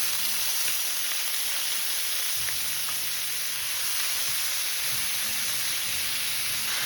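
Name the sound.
frozen green beans sizzling in paella pan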